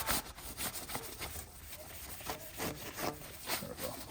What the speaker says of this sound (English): let's go ahead and clean the surface area